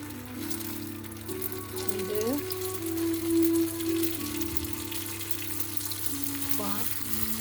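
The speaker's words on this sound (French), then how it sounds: "Donc je vais remettre la poêle au chaud. Et je vais frire déjà ces 5." Five appetizers sizzling in a hot frying pan, a steady close crackle and hiss running the whole time with a few brief louder pops, no voice over it.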